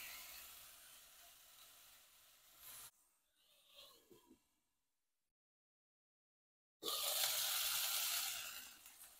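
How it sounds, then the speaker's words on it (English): Stewed onions frying on a griddle for a Wisconsin butter burger, a loud, close, steady sizzle that cuts out for a few seconds of near-silence, then returns just as strong. "Now let's add some of the stewed onions."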